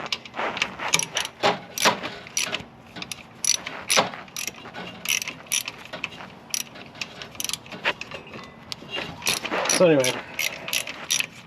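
Socket ratchet tightening the top alternator bolt on a Pontiac Fiero, with rapid clicking bursts repeated in short strokes and pauses, close up, plus brief tool handling and a few words from a man.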